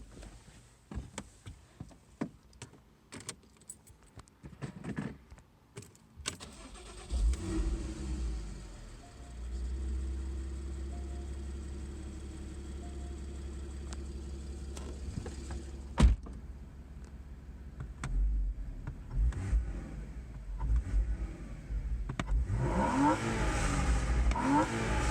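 A 2020 Porsche with a six-speed manual: after a few seconds of clicks and handling noises, the engine fires up and settles into a steady, loud, close-up rumble that swells again near the end, with no talking.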